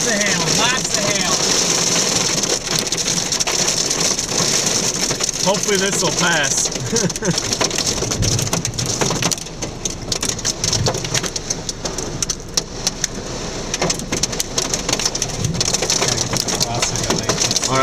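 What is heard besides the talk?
large hail and rain from a tornadic supercell storm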